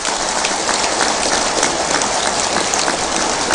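A large audience claps loudly and vigorously at a spiritual discourse, a dense, steady roar of hand claps with no breaks.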